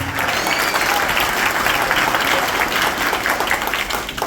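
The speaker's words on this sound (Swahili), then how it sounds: "Wapi makofi?" Dense applause from a large audience fills the whole stretch, steady and sustained with no gaps, at a community event for a driving school empowerment programme in Lang'ata.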